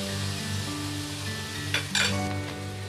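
Spice masala with tomato paste and a splash of water frying in a pan for a fish curry, a steady close sizzle with brief louder hissing bursts near the end and faint stirring clinks.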